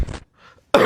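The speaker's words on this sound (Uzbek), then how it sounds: "Adam yo'taldilarmi?" A man coughs in two short, harsh bursts close by, with a quiet pause between them and the second burst louder.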